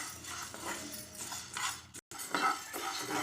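Urad dal roasted in a pan for idli podi and stirred continuously: close scraping and light clinks of a spoon against the pan in quick repeated strokes, quiet, with a brief gap partway through, no voices.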